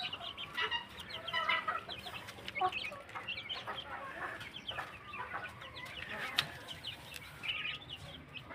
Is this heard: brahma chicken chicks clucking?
yes